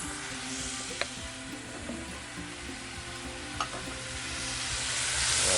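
Honey and oil stir-fried in a Lodge Cook It All cast-iron wok, a steady close sizzle with two sharp clinks of the utensil against the pan, the frying swelling louder toward the end.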